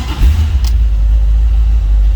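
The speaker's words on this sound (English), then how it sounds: "let's go ahead and fire this up. Let you hear it run." A 1964 Plymouth Barracuda engine idles steadily up close after starting, a deep continuous low rumble with a brief higher rev blip near the start; no talking.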